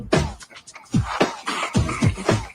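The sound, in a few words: A singer vocally imitating drum machine beats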